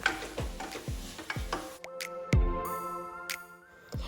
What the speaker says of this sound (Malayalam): അപ്പോൾ അത് ഇതിലേക്ക് ചേർത്തിട്ട് അതിൻ്റെ ആ ഒരു പച്ചമണമൊക്കെ മാറുന്ന വരെ ഇത് നന്നായിട്ടൊന്ന് വഴറ്റിയെടുക്കാം.